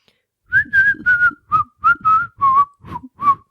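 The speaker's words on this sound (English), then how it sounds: "I can whistle. I don't know how that would pick up, like, with my mic" Someone whistles a short tune of about nine clear, sustained notes in quick succession, loud and close to the microphone, with no talking.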